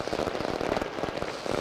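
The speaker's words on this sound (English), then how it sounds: "The fireworks are going off at Nea Nazimabad." Fireworks burst and crackle in a dense, continuous barrage at a tape ball cricket final celebration in Nea Nazimabad, Karachi, loud and steady with no clear gaps.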